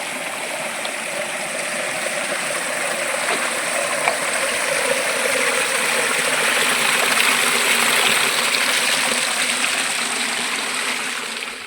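Cool water flowing in a forest stream, a continuous broad rushing babble that holds steady and fairly loud from start to finish, with no voices over it.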